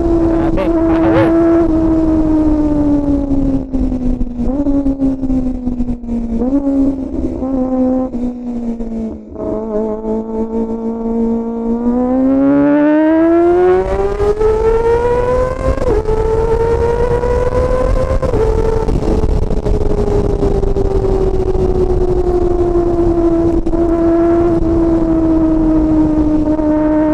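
A four-cylinder gasoline motorcycle idles loudly up close, then revs hard. Its pitch climbs in repeated bursts, dips briefly and settles back to a strong, steady rumble.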